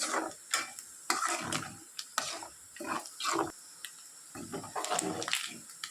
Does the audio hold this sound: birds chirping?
no